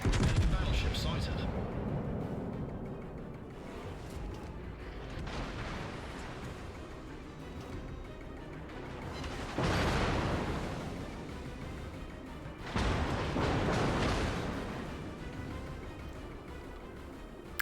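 Heavy naval gunfire in the World of Warships game, with booming salvos landing around the 10- and 13-second marks over a constant rumble of battle, loud and close.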